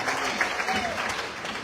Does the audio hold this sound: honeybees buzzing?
no